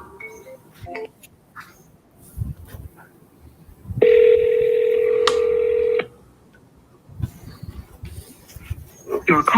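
A phone dials out for a business call: faint handling and movement noises, then a steady two-second ringback tone, clear and close, followed by quieter rustling and clicks.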